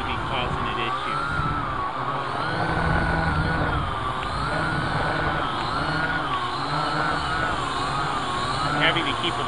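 A modded Syma X8C quadcopter with a heavy action camera hovering in cold weather, its propellers giving a continuous buzzing whine that wavers in pitch as the throttle is adjusted, with someone talking over it.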